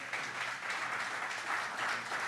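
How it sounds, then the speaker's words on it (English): Applause from an evening crowd gathered at a pickleball and restaurant venue, a short, even burst of clapping at moderate distance. "Let's give them a round of applause."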